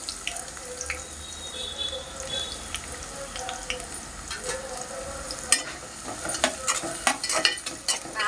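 Sliced onions with a pinch of salt fry in oil for an aloo korma, a soft steady sizzle under stirring and scraping, with clatters and scrapes growing busier near the end; no talking.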